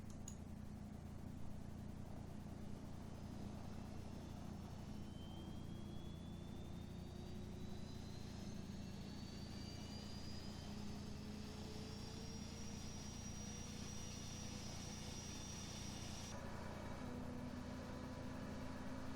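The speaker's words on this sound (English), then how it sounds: "So we're going to go crank engine 2 first." F/A-18 Super Hornet engine spooling up during a cockpit start in a flight simulator, a steady loud drone with a slowly rising whine that climbs and then holds, continuous for the whole stretch with no talking.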